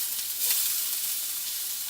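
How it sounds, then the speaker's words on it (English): Chopped onions sizzle in hot oil for a curry, a steady bright hiss that swells briefly near the start and then holds even and close, with no voices. "now I'm gonna add my onions in"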